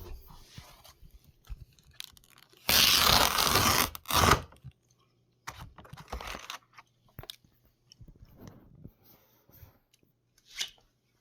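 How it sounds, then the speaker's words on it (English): Knife slicing through a roll of insulation material during attic ice-dam prevention work, heard as a loud sustained tearing crunch lasting about two seconds, then a shorter cut, followed by quieter scattered scraping and handling noises. "First I'll cut the edge like that, then I can hold it and cut down the line."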